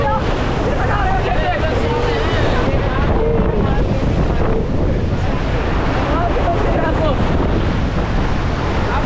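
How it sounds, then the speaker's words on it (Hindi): River waves splash and wash against an inflatable raft during rafting, with strong wind buffeting the microphone in a continuous loud roar. "लहरें क्या आ रही है, मैं गीला हो गया यार"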